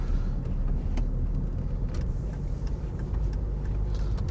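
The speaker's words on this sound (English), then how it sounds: "Lots of traffic." Car traffic at night on a busy one-way road in Dover, heard from inside a moving car: a steady engine and road rumble with passing vehicles whooshing by and no talk.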